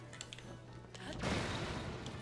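An explosion in the video game The Legend of Zelda: Tears of the Kingdom, a sudden broad blast that booms up and then rumbles on as a loud, noisy wash after a few light clicks and taps.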